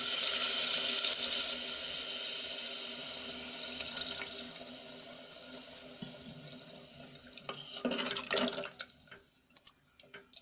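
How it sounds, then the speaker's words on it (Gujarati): Water pours steadily into a pan of sautéed muthiya dumplings and pigeon peas, a continuous splashing fill that eases off midway before a brief louder stir or pour near the end, with no talking. "હવે એમાં આપણે તુવેર અને મૂઠિયા ડૂબી જાય એટલું પાણી ઉમેરશું"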